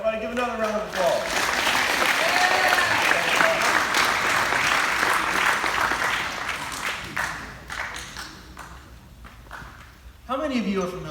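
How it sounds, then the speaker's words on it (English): Audience applause rises in a school chapel, a dense burst of clapping that swells then gradually thins out, with a voice talking over the start and again as it fades. "Everybody give another round of applause."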